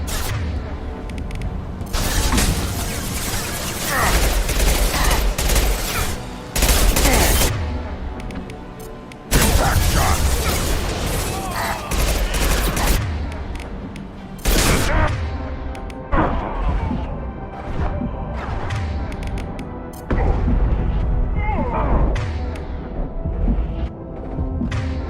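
Loud, dense bursts of explosions, crashes and rapid gunfire from combat in the video game Mass Effect 2, including a grenade blast, coming in heavy waves with short lulls between them.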